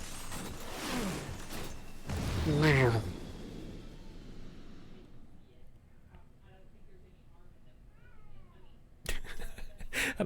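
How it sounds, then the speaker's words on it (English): A pet cat yowls in the background during a Nier: Automata gameplay session, with a rising, wavering cry around the middle, while a person talks over game sounds. "my cat is definitely... My cat be yowling"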